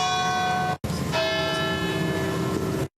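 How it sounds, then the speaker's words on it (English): Church bells ring out in memory of rail disaster victims at a memorial in Lac-Megantic, a steady loud peal of sustained overlapping tones with two brief gaps. "47 bells were rung in memory"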